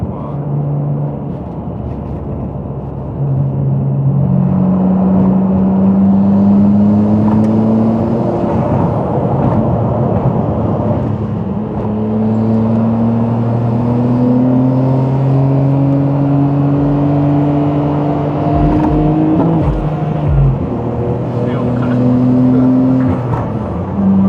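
A Honda Civic FD2 drives past on a road in Japan, its engine note rising and falling through the gears, loud and close, with other traffic noise around it.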